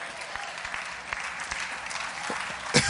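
Steady audience applause, a dense patter of many hands clapping continuously at moderate volume, with a slightly louder burst near the end.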